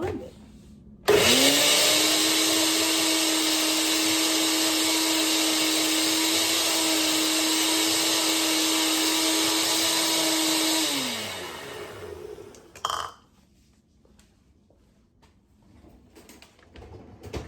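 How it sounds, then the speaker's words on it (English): A blender whirs steadily for about ten seconds as it purées garlic and water for a liver and kidney detox drink, a loud, close motor drone that winds down, followed by a clunk and near silence. "And we're going to blend it."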